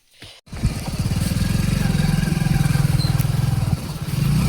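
A motorcycle engine runs loud and close, its steady throbbing putter holding strong for several seconds after a brief start.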